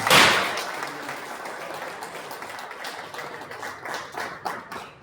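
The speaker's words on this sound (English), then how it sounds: "let's give all the participating team a big round of applause" A crowd at a cricket tournament applauds, starting with a loud burst of clapping that settles into steady, moderate hand claps continuing throughout.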